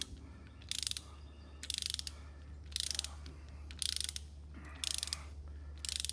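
Torque wrench tightening a Humvee wheel hub to 37 foot-pounds, giving six evenly spaced sharp ratcheting clicks over a steady low hum, close by and without speech.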